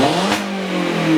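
A Ford Fiesta fitted with a new loud exhaust back box revs hard, a close, rough engine roar that rises and holds for a little over a second.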